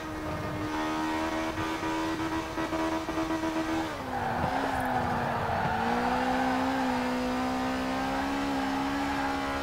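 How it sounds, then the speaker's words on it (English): A four-cylinder Group B rally car in Forza Horizon 4 drones at steady revs, then dips and climbs again with a burst of tire noise in the middle, loud and continuous. "And it sounds pretty good for a four-cylinder."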